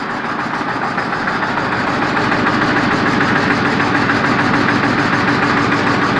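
A Thai e-taen farm vehicle's engine runs nearby, loud and steady with a rough, knocking mechanical chug that holds throughout and has no talk over it.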